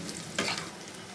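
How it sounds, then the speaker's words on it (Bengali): Garlic and chili fry in a pan for khichuri, a close, steady crackling sizzle with a brief burst of stirring in the middle. "এটাকে একটু ভেজে নেব।"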